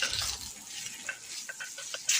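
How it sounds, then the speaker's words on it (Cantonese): Ginger shreds and daikon slices fry in a little oil in a hot wok, giving a soft, quiet sizzle with a few light scraping stirs and small clinks of the utensil against the pan. "250g 白蘿蔔片，煎1分鐘"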